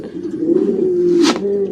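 White Mondain pigeons coo close by in a loud, sustained low throaty call, with a brief bright flutter or rustle near the end.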